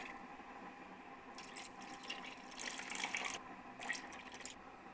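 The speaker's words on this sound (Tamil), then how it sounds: "வடிகட்டு வச்சுருந்தோம்ல புளி தண்ணி, அதை சேர்க்கலாங்க." Strained tamarind water poured into a simmering fish curry gives a soft, close trickle and splash in two short bursts, with a quiet moment between them and no talking.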